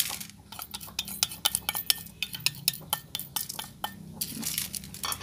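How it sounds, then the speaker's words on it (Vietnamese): Coarse salt being stirred into sliced white radish in a bowl, a run of close, sharp utensil clinks and gritty scrapes at an uneven rhythm, with no one talking. "Giờ mình sẽ trộn cái 100g muối hạt này vô đây ha"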